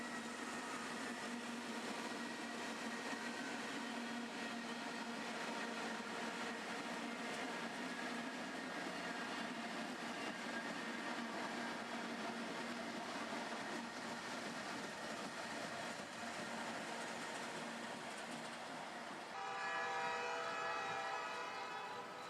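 A CSX freight train on the Chattanooga Subdivision passes with a lineup of SD40-2, C44-9W, ES44DC, SD70ACU and ES44AH locomotives, making a continuous loud rumble and engine roar. Sustained horn-like tones swell near the end.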